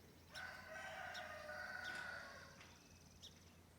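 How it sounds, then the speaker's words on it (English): A single rooster crows once, a long drawn-out call at moderate distance over quiet outdoor background. "Our rooster is being loud in the background."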